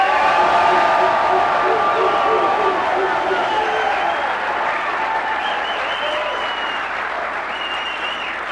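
A large, excited crowd claps and cheers at the semi-final of the Q-Tech Q's Canadian Classic pool tournament inside Casino Windsor, Canada. The applause is loud, dense and continuous, easing slightly toward the end, with voices mixed in.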